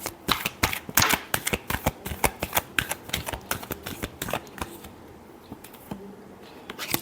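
Tarot cards being shuffled by hand in a rapid run of crisp riffling flicks and taps, close and fairly loud, easing off briefly near the end before one last snap.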